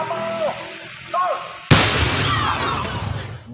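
An old Dutch colonial-era mortar bomb is detonated by disposal officers at a site far from homes: one sudden loud blast that rolls into a long, rumbling roar, following a stretch of a voice talking.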